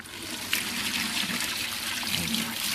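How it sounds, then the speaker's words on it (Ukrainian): A second chemical liquid is poured into a container, giving a close, continuous splashing trickle with a gurgling texture for a few seconds, no voice over it. "Е, другу хімічну речовину і заливаємо"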